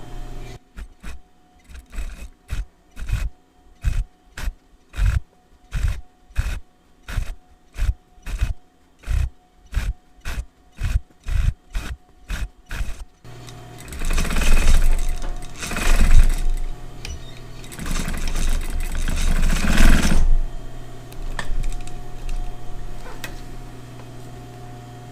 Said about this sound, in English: If you have never used an industrial sewing machine before